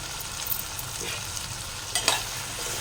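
Jackfruit seed curry with tomato being stirred in a pan, a soft continuous sizzle with faint scraping and a brief clink near the end.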